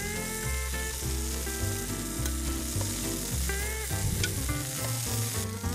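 Meat sizzles and fries steadily in a hot pan, a dense crackling hiss that stays close and continuous with no voices over it.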